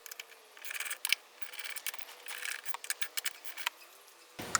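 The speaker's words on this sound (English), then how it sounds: "we can loosen up those nuts" Loosening strut mounting nuts on a 2008 Hyundai Elantra with a wrench, a quiet run of sharp metallic clicks and ratcheting taps, close up, ending in a louder clunk.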